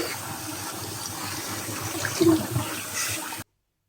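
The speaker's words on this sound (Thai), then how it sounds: "แล้วก็ล้างน้ำด้วยให้น้ำเต็มเลย" Tap water runs steadily and gushes close by over boiled instant noodles being rinsed, with a slight surge midway, before cutting off abruptly.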